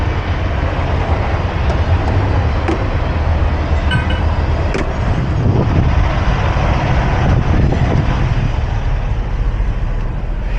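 A train passing near a parked Super B trailer truck: steady loud rumbling and roaring with occasional metallic clanks and squeals over a low continuous drone, no talk.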